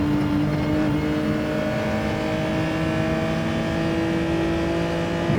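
On-board race car engine accelerating up a hill onto a start-finish straight, a loud, continuous droning roar with steadily held pitch throughout and no voices.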